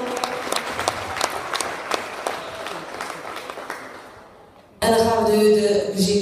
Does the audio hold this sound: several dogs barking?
no